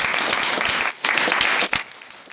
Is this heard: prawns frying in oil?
no